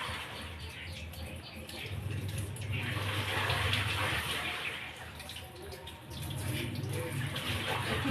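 Water runs steadily from a tap while fish is washed, a continuous splashing gush that swells and eases, with a voice faintly in the background.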